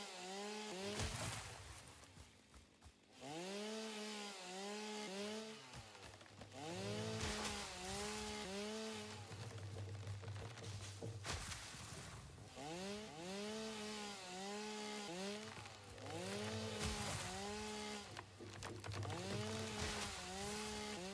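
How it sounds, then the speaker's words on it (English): A chainsaw felling trees in the game Satisfactory drones on and off in repeated revving bursts, loud and close, with brief pauses between cuts and no talking. "so I could use my chainsaw without them running into me"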